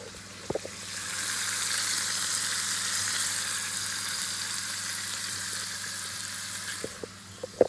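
A beef roast sizzles loudly as it browns in a hot pan, a steady hiss swelling after a couple of light clanks and then tapering off, with a few brief knocks at the end.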